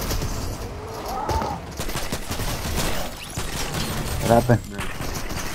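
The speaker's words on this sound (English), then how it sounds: "Somebody's shooting." Gunfire in the Fortnite video game: a few bursts of shots ring out under steady talk, with a sharper cluster of loud reports near the end.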